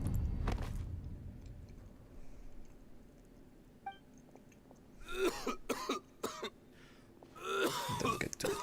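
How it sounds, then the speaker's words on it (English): A male character in the Genshin Impact video game coughs in several harsh bursts near the end, following a quieter stretch of low ambient game sound and faint effects. "Why is he coughing so much?"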